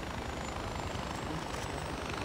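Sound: helicopter in video game Far Cry 4

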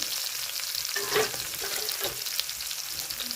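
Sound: garlic and green chillies frying on a hot griddle

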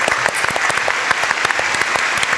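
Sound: studio audience applause

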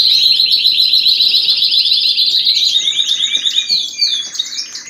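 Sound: pet canaries singing loudly

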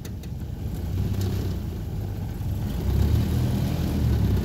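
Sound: Land Rover Series II driving in second gear

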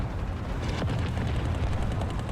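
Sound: T-26 tank 37 mm cannon firing in War Thunder video game

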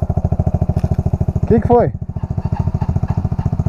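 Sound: Yamaha XTZ 125 motorcycle engine running on a trail

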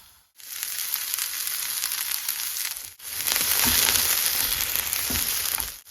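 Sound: onion frying in butter in pan

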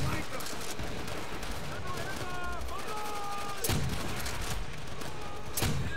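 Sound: gunfire in the video game Call of Duty: World at War

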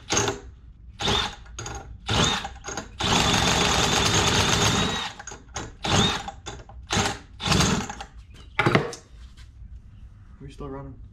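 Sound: two-stroke engine running on diesel fuel

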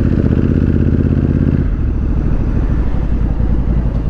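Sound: Honda Africa Twin Adventure Sports motorcycle engine riding

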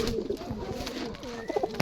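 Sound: Rajshahi Giribaz pigeons cooing

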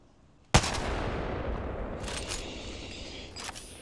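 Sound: gunfire from enemies in a Batman video game

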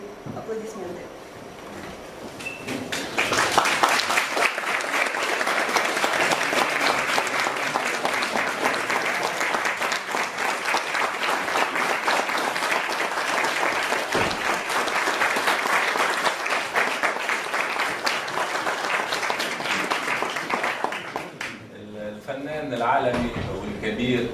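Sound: audience applause for pianist Yuri Rozum

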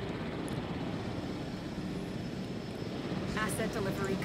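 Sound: helicopters flying in video game Jurassic World Evolution

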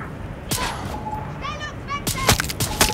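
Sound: gunshots in the video game Far Cry 6

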